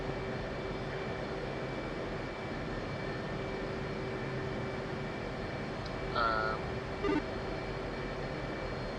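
Aircraft taxi in the DCS World flight game, a steady low engine drone and whine filling the background, with a couple of brief tonal blips partway through.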